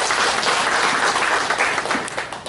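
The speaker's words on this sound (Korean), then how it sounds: "한 박수 부탁드립니다." A crowd applauds at a farmers' association 30th-anniversary ceremony in a hall, with dense, sustained clapping that fills the whole stretch and tapers slightly at the end.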